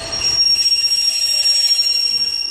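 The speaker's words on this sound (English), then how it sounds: "We got the Exeter train now coming." Train pulling into Exeter St David's station on the Great Western main line, loud and close, with a steady rolling rumble and a high, sustained wheel squeal throughout.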